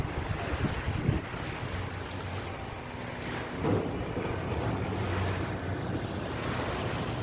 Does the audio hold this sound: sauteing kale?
no